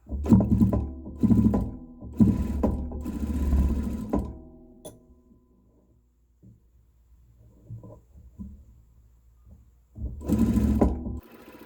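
A sewing machine stitches a garment hem in rapid bursts, stopping and starting several times, with a quiet pause in the middle before a final run.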